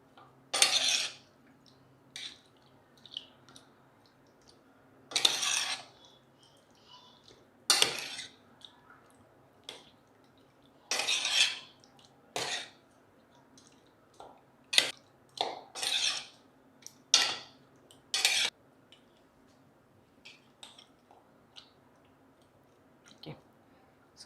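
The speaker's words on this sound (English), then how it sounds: "Now I have put all the ingredients for marination. So let's mix them nicely." Chicken curry marinade being mixed in a bowl, with irregular wet squelches and the clink of utensil against the bowl in short separated bursts, close and fairly quiet, with no talk.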